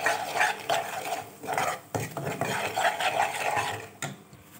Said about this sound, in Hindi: और साथ ही हम इसको थोड़ा सा चलाएंगे